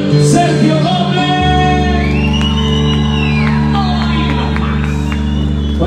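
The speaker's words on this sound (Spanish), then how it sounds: "me regalen un aplauso y un grito bien chingón hasta el cielo" A loud concert crowd at a live show in Apizaco, Tlaxcala, shouts and whoops over steady live music, cheers rising and swelling throughout.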